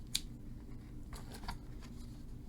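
Scissors snip around a paper circle, close and quiet: a sharp click, then a few soft, irregular cuts under a low background hum.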